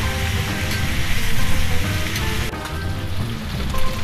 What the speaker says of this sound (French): Ça fait une dizaine de minutes que la viande rissole.